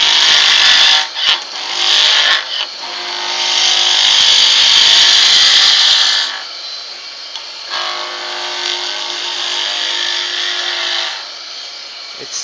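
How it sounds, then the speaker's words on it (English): A skew chisel cuts a small piece of wood spinning on a lathe, producing a loud, close, high whirring scrape in sustained passes with short breaks between cuts. "No roughing on these small pieces. I go immediately with the skew."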